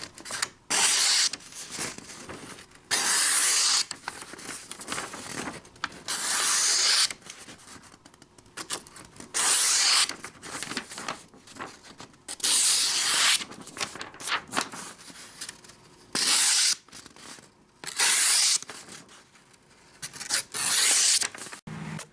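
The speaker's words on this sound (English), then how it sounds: "just listen to the cutting" Kizer Theta folding knife slicing through cardboard in repeated bursts, each a close, loud rasping scrape separated by brief pauses, with no talking.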